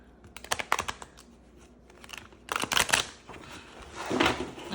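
Cards shuffled hard by hand, giving repeated bursts of rapid riffling and flicking clatter, close and fairly loud, separated by short quieter pauses.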